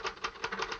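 Rapid mechanical typewriter keystrokes in a quick, even burst of about six sharp clacks, close and distinct with no voices over them.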